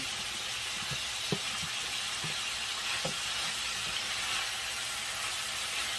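Steady hiss of fajita vegetables sizzling in a hot pan, with a few soft clinks and stirring sounds, no talking.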